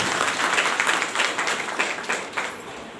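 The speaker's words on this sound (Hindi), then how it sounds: "जोरदार हाथ ताली से स्वागत करें" Loud, sustained applause from a group, many hands clapping together in a dense wash that gradually tapers off.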